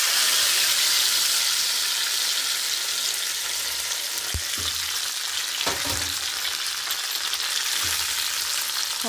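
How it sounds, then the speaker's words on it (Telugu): Hot tempering sizzles as it is stirred into ven pongal, producing a steady, moderately quiet frying hiss with occasional soft spoon scrapes and knocks against the pot. "ఇప్పుడు స్టవ్ ఆపేసుకుని తాలింపు వేసేసుకుందాం."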